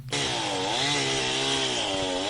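Chainsaw engine running steadily at high revs for a couple of seconds, a dense buzzing whine that starts abruptly and holds at even volume, close and alone with no voices.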